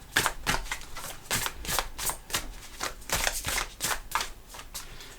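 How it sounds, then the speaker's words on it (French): A deck of tarot cards is shuffled by hand in quick repeated riffling bursts, close and steady, with no talking. "à force de mélanger les cartes"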